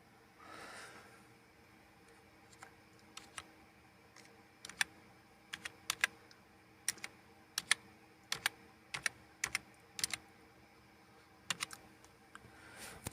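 A password goes in on a computer keyboard in quiet, scattered keystrokes. The clicks come close together in short bursts with small pauses between them, and the room is otherwise nearly silent with no speech.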